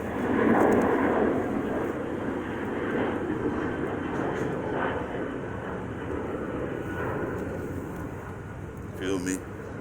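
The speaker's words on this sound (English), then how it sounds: "you will be hearing a couple of planes pass by doing this video" Airplanes pass overhead near an airport as a broad, steady engine roar that swells early and then holds through the whole stretch, with a voice faintly present alongside it.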